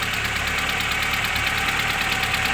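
A 2001 Mazda 626 GF diesel engine runs rough nearby, a loud, steady mechanical drone with a rapid repetitive knocking pulse and no voices.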